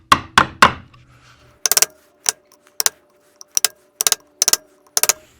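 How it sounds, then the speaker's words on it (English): A 1/4 inch chisel cuts into wood toward a knife line, giving a series of sharp, close taps and chops in irregular bursts, with several quick strikes at the start and spaced single knocks after. "I've got my 1/4 inch chisel here to get right up in these corners"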